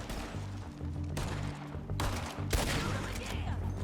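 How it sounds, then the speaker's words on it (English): Sustained gunfire during a shootout in the video game Red Dead Redemption 2: dense, overlapping shots and volleys fill the whole stretch at steady loudness, with a few sharper near cracks and no clear speech. "Where am I getting shot from?"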